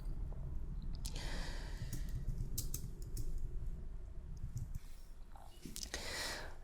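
Someone types a short app description on a computer keyboard: scattered, fairly quiet key taps in uneven bursts over a low background rumble.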